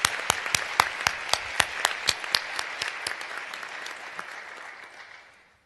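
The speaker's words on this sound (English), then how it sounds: "let's give them all a huge round of applause for their support" A conference audience claps for sponsors, a modest scattering of individual hand claps in a loose rhythm that thins out and fades away over a few seconds, heard from nearby.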